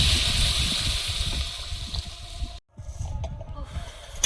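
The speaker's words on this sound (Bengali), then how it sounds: "জল দিয়ে দেবো।" Water pours into a cooking pan that already holds potatoes, a steady splashing rush that drops out briefly partway through and then resumes, close and fairly loud with no talking.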